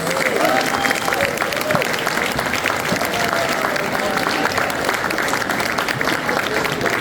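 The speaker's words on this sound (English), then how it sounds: "A big round of applause to all our water students." An audience gives steady, continuous applause for students at an annual volunteer award ceremony, with some crowd voices mixed in underneath.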